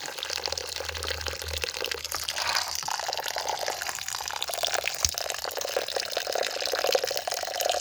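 Tap water runs steadily from a faucet over rice being rinsed for khao tom mat, a continuous close splashing and gurgling with occasional drips and one sharp knock.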